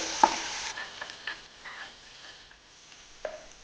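Ginger-chilli paste and turmeric powder being stirred in a pan for sweetcorn chevdo: faint hissing with a few light spoon clicks and scrapes, close by, no talking.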